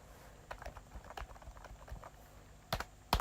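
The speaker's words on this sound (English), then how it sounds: "press the Windows key and it's reacting" Keys on a new laptop's keyboard click in scattered, uneven taps at low level, followed by two louder, sharper presses at the end, with no talking.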